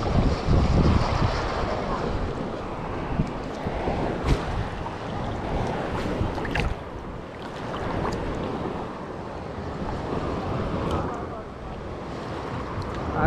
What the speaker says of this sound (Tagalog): Dito lang tayo sa may beach na to.